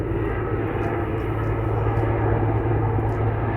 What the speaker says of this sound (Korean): 헬기 들어오는 거예요, 저거.